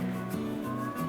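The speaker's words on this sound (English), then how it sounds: "I don't know if you can hear my cat meowing in the background" A cat meows faintly in the background, a few drawn-out tonal cries in the quiet of an indoor room.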